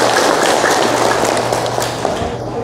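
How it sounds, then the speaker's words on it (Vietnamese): Audience applause for a teacher at a hospital clinic's discharge ceremony for cancer patients, steady dense clapping throughout with a low hum beneath, fairly loud and continuous. "Chúng ta dành một tràng pháo tay một lần nữa cho thầy"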